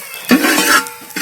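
Curry mixture for a Kerala sadya koottu curry stirred in a pan with coconut oil while cooking outdoors, heard as a few close scraping strokes with a light sizzle between them.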